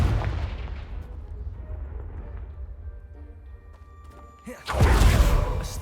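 A blasting spell goes off in a wizarding video game: a loud, broad explosive burst near the end, after several seconds of low rumbling ambience.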